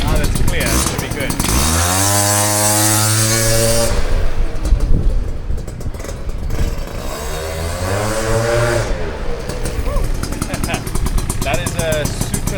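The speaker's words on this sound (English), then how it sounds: "Still stock motor, stock CVT, with a nice sounding pipe." A small engine with a stock motor, stock CVT and an aftermarket exhaust pipe revs hard twice, climbing in pitch and falling back, loud and close, with a steady idle in between.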